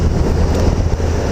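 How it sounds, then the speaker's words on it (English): Gusty wind buffets the microphone outdoors, a loud, constant low rumble with small fluctuating bursts and no speech. "Oh, windy."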